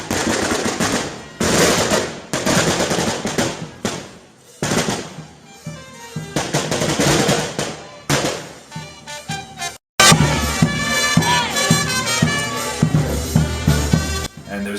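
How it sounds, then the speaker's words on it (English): Fireworks going off at a street festival in Peru, loud rapid crackling bursts in dense volleys separated by brief pauses, then a long sustained barrage of popping and banging, with no voices. "there was fireworks."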